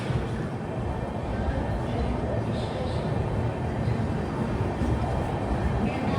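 An Intercity Express train runs steadily between Bengaluru and Ernakulam, with a constant loud rumble and hiss heard from inside a general-class coach.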